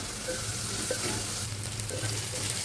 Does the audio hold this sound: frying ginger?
yes